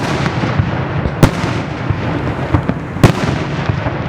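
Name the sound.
fireworks exploding with echo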